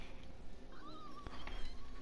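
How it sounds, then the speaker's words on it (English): A house cat gives a faint, drawn-out meow in the background of a noisy room, one short call heard behind low background sound. "That was my cat"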